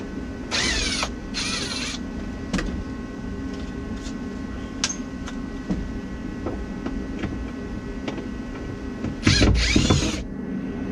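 Ratchet wrench loosening a kick panel bolt on a Dodge Aspen or Plymouth Volare during heater core removal, with two quick bursts of rapid clicking at the start and another near the end, separated by faint clicks and creaks over a low hum.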